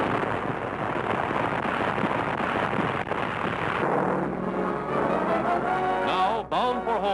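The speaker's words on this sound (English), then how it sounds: "bombs are on their mark, and the freighter is crippled by the explosions" Heavy rumbling blasts roll and boom in a dense, continuous wash of sound as bombs hit a freighter, heard through an old, noisy 1943 newsreel recording.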